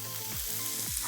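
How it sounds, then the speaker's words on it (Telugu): Sliced onions sizzle steadily in hot tempering oil with turmeric and curry leaves, a close, continuous crackle with a couple of stirring scrapes. "తాలింపులో ఉల్లిపాయలు వేసిన తర్వాత అది వేగాలి."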